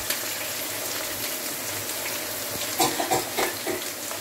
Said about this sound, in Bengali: মাংসের টুকরোগুলো হালকা একটু ভাজা হওয়ার পর এর মধ্যে পরিমাণ মতো পেঁয়াজ কুচি, আদা কুচি আর রসুন কুচি দিয়ে দেওয়া হলো